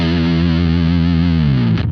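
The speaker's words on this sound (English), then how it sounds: "we have just the top end running into the big muff, and then just the bottom end going clean." A bi-amped guitar signal sustains a chord, the top end driven through a Big Muff fuzz and the bottom end kept clean, buzzing steadily with a slight wavering before it fades.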